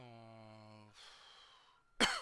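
A single sharp cough bursts out loudly at the very end, following a steady humming tone and a softer breathy stretch.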